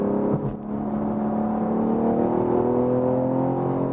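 A BMW X3M Competition SUV with 510 horsepower accelerates on a busy road, a smooth rising engine note and whir heard steadily from inside the cabin with no talking.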